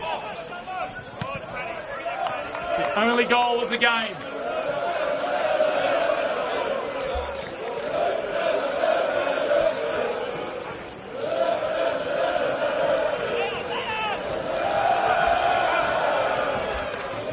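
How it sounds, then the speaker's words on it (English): Football supporters sing together in the stadium at an NPL NSW elimination semi-final between APIA Leichhardt and Sydney United 58, a sustained, full-throated crowd chorus that rolls on throughout while a commentator talks over it. "as the crowd are singing"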